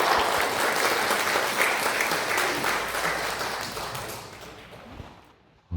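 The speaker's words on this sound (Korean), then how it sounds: "우리 하나님께 크게 영광의 박수를 올려드리겠습니다" A church congregation breaks into loud, sustained applause after a choir's hymn, the dense clapping gradually thinning and fading out near the end.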